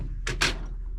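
A toolbox drawer holding tools fixed in place is shaken, giving two quick, close rattling clunks in rapid succession over a quiet background.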